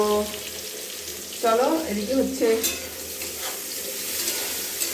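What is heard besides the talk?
food frying and sizzling in a pan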